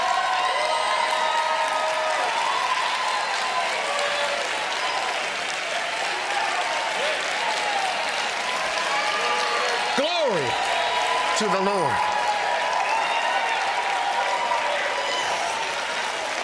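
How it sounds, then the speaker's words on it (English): A large audience stands and claps wildly at a church service, a dense continuous roar of applause filling the whole stretch, with a few words spoken over it. "people are standing and clapping like wild over this"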